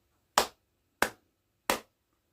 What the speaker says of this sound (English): Let me just clap my hands and make sure that my sync is okay